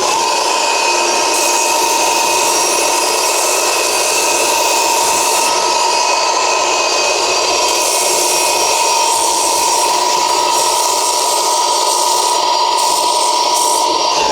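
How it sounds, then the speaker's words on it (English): A belt sander runs continuously against the edges of a stingray-style leather holster, a loud steady whine with a grinding, abrasive texture that shifts slightly as the leather is pressed and moved. "To get the edges straight and aligned, you need a belt sander."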